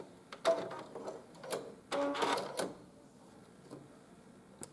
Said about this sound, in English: you're going to notice that my speed is sewing at about half the speed that it would normally be